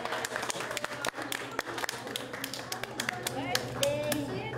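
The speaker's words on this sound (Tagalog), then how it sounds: "sapat na yon para itulak ang ilan na pagsikapang pumalakpak sa kabila ng kanilang kalagayan" Scattered, uneven hand clapping from a small group of elderly listeners at a music gathering, a patter of taps of varying loudness with a murmur of voices underneath.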